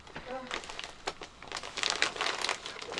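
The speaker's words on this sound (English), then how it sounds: "Sellotape, sticky tape on these plastic bags is just a nightmare." Plastic bags with sticky tape crinkling and crackling in a craft room, a run of close, irregular rustles and crisp crackles that grow denser toward the end, with a voice briefly audible early on.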